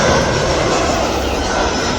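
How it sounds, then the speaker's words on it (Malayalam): A Lufthansa airliner lands near an airport parking area in Turkey, its engines giving a loud, close, continuous broadband roar that holds steady throughout with no speech over it. "ഒരു ഫ്ലൈറ്റ് വന്ന് ലാൻഡ് ചെയ്യുന്നുണ്ട്."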